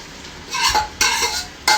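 Potatoes go into a cooking pot in a home kitchen, heard as a few scraping, clattering bursts of utensil against pot, close and moderately loud with short pauses between them.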